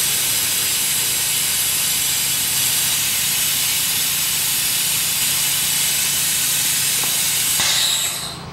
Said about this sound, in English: that is essentially pulling out all of the air and pulling fluid right through it.